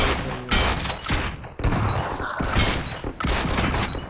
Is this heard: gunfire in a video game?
yes